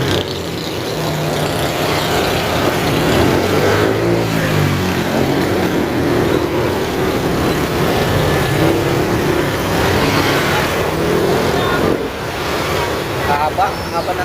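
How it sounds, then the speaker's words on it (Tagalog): Heavy road traffic, a dense, continuous roar of engines idling and revving close by, loud and unbroken throughout the clip. "grabe yung traffic talaga dito mga idol"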